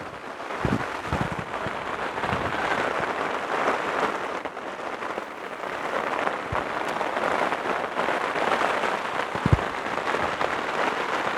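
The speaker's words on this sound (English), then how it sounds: "There's a storm coming." Heavy rain lashes down during a storm: a steady, roaring patter with scattered low thumps and brief impacts throughout, and no voices.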